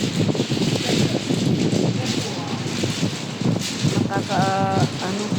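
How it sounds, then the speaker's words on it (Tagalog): Strong wind buffets a 24th-floor balcony in Singapore, a steady, loud roar and rumble across the microphone. Near the end a brief tonal sound rises over the gusts. "Kasi sobrang mahangin."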